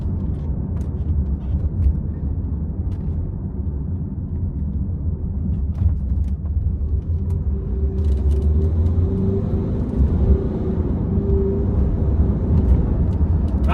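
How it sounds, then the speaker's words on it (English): Range Rover Evoque interior while driving, low engine and road rumble with a rising tone partway through as it shifts gears, steady and close without talk. "It goes through the gears nice and smooth."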